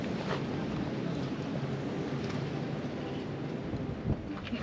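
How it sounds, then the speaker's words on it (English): Steady wind blows across an outdoor farmyard with chickens, buffeting the microphone in a continuous low roar with small gusts and no clear pauses. "A little windy around here."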